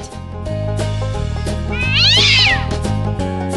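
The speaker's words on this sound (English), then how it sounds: "Cat." A cat gives one drawn-out, rising and falling meow in a children's farm-animal stacking game, clear and close over a steady looping tune.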